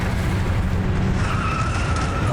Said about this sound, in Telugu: ఆగో, ఇది ట్రక్ శబ్దమే కదా.